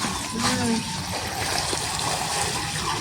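Water is poured in a household setting, giving a continuous splashing, trickling gush that runs through the stretch, with voices talking nearby.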